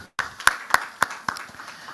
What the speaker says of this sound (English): let the applause continue for all of them